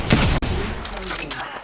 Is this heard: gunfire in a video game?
yes